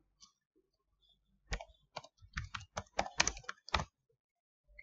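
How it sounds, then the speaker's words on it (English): Computer keyboard keys being typed in a short burst of clustered clicks, close and clear in a quiet room, with no talking. "if you type your app name, if you remember your app name, it's very simple"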